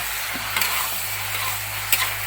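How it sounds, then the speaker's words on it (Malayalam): Chicken frying in a pan gives a steady sizzle, with a couple of soft scrapes as it is stirred. The sound is close and moderately quiet, and no one speaks. "നമുക്ക് നന്നായിട്ടൊന്ന് ഇളക്കി കൊടുക്കാം"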